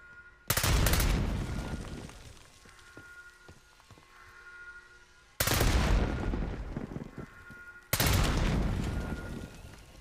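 Gunfire aimed at tiny remote control vehicles in the Call of Duty Black Ops 6 campaign: three loud, sharp bursts of rapid automatic fire, each a couple of seconds long, separated by quieter stretches of ambient noise.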